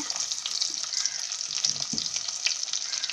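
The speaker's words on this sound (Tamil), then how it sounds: "இப்போ நான் ஐம்பது கிராம் சின்ன வெங்காயம் எடுத்து ரெண்டு ரெண்டாக கட் பண்ணி வச்சுருக்கேன் அதை இதில் சேர்த்துக்குங்க" Small onions, halved, sizzle steadily in a clay pot with fenugreek, a dense continuous frying hiss with faint stirring knocks, close and even throughout, no talking.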